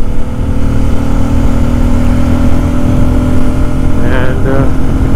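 A 2024 Bajaj Pulsar N250 motorcycle cruises in top gear on a slight incline, its engine droning loud and steady with heavy wind rush, and a short rise in pitch near the end.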